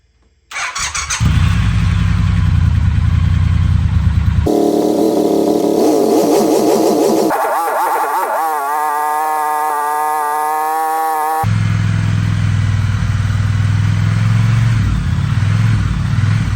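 A Triumph Bonneville motorcycle engine with a weak battery cranks and catches, then idles and revs loudly with a whining, squealing tone, running continuously up close.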